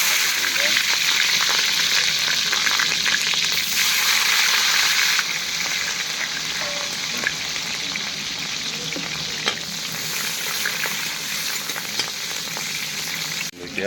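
Sliced onions and green chillies sizzle in hot oil in a pan while cooking a home-style vegetable dish; a dense, steady frying hiss with occasional stirring scrapes, loud and close, easing slightly partway through.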